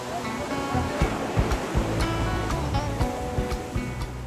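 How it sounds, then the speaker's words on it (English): Ocean waves roll and break in a constant wash of surf around a mosque in Casablanca, Morocco, with a faint voice murmuring beneath the noise. "A massive breaking swell breaking all around the mosque."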